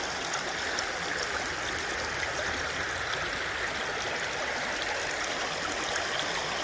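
Water pours steadily through a gold sluice, a continuous close rushing and trickling flow with no pauses and no voices.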